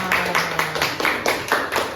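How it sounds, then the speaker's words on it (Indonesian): A small group of schoolchildren claps in a classroom, with a few uneven bursts of claps over two seconds and faint voices in the background. "Oke, beri tepuk tangan."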